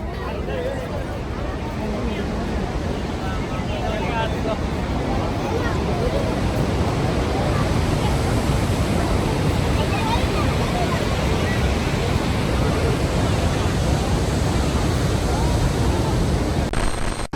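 Niagara Falls roars as a constant, heavy wash of water, mixed with crowd babble and wind buffeting the microphone throughout.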